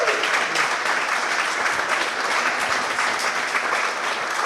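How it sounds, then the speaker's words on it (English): A podcast audience welcomes Hull KR chief executive Paul Lakin with sustained clapping. The dense, even applause runs throughout at moderate loudness with no voices on top. "A big round of applause."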